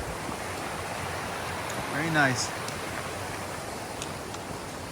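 Bish Bash Brook runs as a steady broadband wash of flowing water along a wide trail in New York's Taconic Mountains, constant throughout with a brief voice remark and a faint tonal chirp near the middle.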